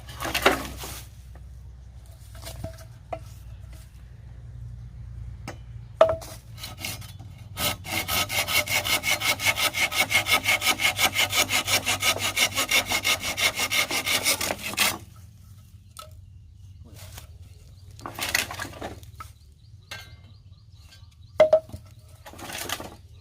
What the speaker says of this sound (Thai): เลื่อยของแท้เลย